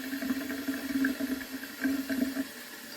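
Water runs steadily from a newly installed faucet into a vessel sink, a continuous close splashing stream with a faint ringing tone, no voices.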